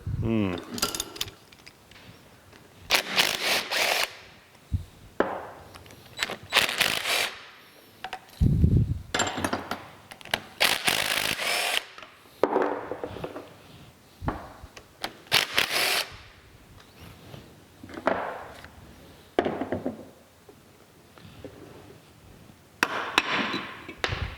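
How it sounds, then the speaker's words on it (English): Cylinders are pulled off a two-stage air compressor pump, giving irregular metallic clanks, knocks and scrapes of tools and parts at close range, with scattered pauses between bursts. "next, we'll go down and we'll pull the pistons ring, or the cylinders off rather"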